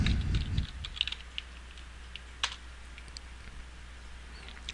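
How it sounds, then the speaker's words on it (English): Commands typed on a computer keyboard while configuring a VyOS lab router, heard as faint, sparse key clicks over a low steady hum after a brief louder rustle at the start. "So we type in configure."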